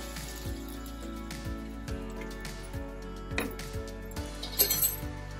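A spoon clinks and scrapes against a metal pan while lemon rice is mixed with fried peanuts, a steady series of light metallic taps close by with no talking.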